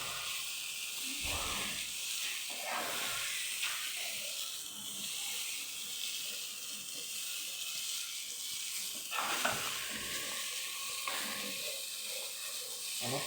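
Rice sautéed and stirred in a hot pot, a soft continuous sizzle and hiss with occasional scraping stirs, fairly quiet and close, with no talking.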